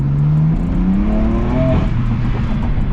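BMW F80 M3 engine and exhaust while driving in M2 mode, a loud, continuous growl with pitch climbing through acceleration and a shift, heard from inside the car with no talking.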